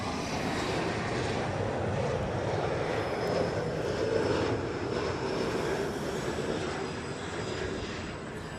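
Jet airliner passing over Los Angeles International Airport, a steady broad roar that holds loud and even throughout with no speech over it.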